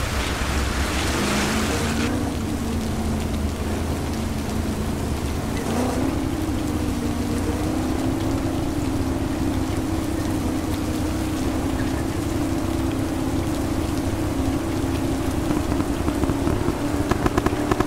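A Renault Duster rally car on the Dakar stage from Uyuni to Tupiza ploughs through a river, water splashing and hissing in a dense, continuous wash over the low drone of the engine.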